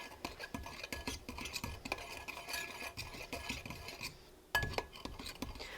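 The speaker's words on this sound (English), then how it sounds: "So now you just want to mix all that together. The salt, the baking powder," Flour, salt and baking powder for pumpkin scones, the flour freshly milled, are stirred together in a bowl, giving quiet, quick, repeated scraping and tapping strokes of a utensil.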